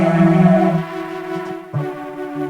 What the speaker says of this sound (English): This is an example of a vocoder.